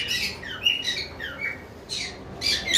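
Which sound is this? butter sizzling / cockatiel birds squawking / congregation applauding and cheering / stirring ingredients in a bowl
cockatiel birds squawking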